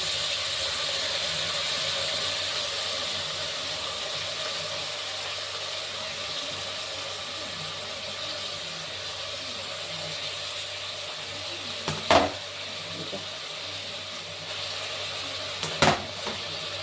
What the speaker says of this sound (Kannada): ಇದು ಸ್ವಲ್ಪ ಫ್ರೈ ಆದಮೇಲೆ ಬೇರೆ ಏನು ಆ್ಯಡ್ ಮಾಡಬೇಕು ಅಲ್ಲಿ ತನಕ ಇದು ಸ್ವಲ್ಪ ಫ್ರೈ ಆಗಬೇಕು